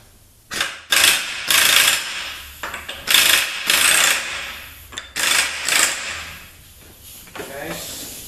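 A ratchet with a 1.5-inch socket works a big nut off during a teardown, its clicking pawl coming in repeated loud bursts of a second or so, close up, with short pauses between strokes.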